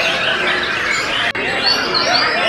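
Songbirds at a bird song contest chirp and trill in a steady, moderately loud chorus, with a brief dropout near the middle and a few clearer whistled notes afterward.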